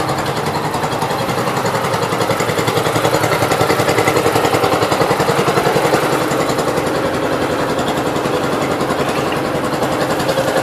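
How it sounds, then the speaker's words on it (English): An old tractor engine idles steadily with a fast, even mechanical thump, loud and close, running alone for the whole stretch without any change in pace. "So let it run about like that. Normally it will run for quite a while"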